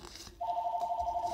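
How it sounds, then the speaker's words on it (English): A telephone rings with a rapid warbling trill, starting abruptly and continuing steadily, fairly close and clear. "that's the phone."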